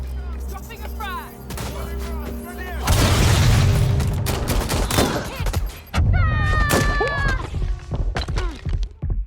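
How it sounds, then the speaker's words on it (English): A frag grenade blows up in Watch Dogs Legion, a loud, close blast with a sustained roaring rumble, followed by sharp gunfire cracks while voices talk over the action. "dropping a frag."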